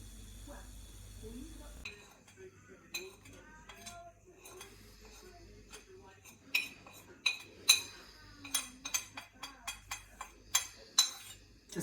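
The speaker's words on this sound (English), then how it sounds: "Give it a bit of a stir." A utensil stirs turmeric into a pot of dhal, with repeated clinking and scraping against the metal pot in an uneven rhythm that grows busier and louder toward the end, with a voice speaking over the early part.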